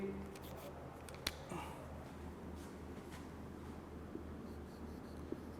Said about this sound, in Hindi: मैं यहाँ पे बल्कि लिख देता हूँ कि ये